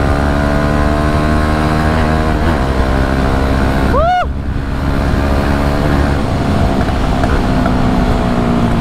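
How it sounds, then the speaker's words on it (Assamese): A Bajaj Dominar 400 motorcycle runs loud and steady with its exhaust droning throughout, broken near the middle by a single sharp pop and a brief pitch sweep. "বেক ফায়াৰ দি আছে একদম পুৰা"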